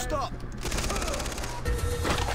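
Rapid gunfire in the shooter video game Far Cry 3 rattles out as a dense, continuous burst of close, loud shots from start to finish.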